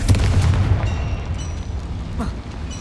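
A Confringo spell explodes in Hogwarts Legacy with a deep booming blast, followed by a rumbling decay and scattered debris-like crackles, a voice calling out in the game.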